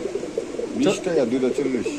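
Giribaz pigeon cooing in soft repeated throaty phrases, fairly close, with someone talking over much of it.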